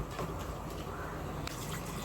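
Water pours steadily into a pot of chicken being cooked in a home kitchen, a continuous loud splashing rush with no speech.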